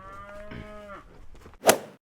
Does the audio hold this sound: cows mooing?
yes